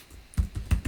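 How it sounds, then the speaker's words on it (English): Keys click on a computer keyboard in a few quick, close taps, with no voices. "So I'm going to go over here and type in"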